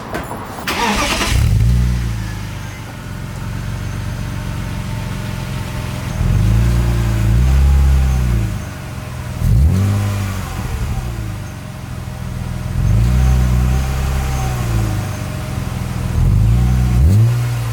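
A BMW E36's exhaust idles with a low rumble, then revs up several times in short bursts, each swell rising and falling back to idle, loud and close.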